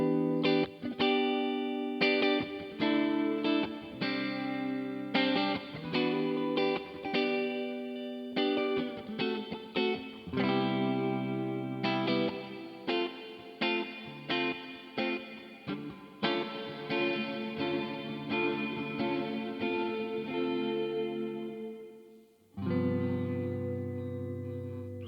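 Electric guitar chords played through distortion and reverb pedals on a MOD Devices MOD Duo, heavy distortion with a washy reverb tail, strummed in rhythmic bursts and ringing out, no talking.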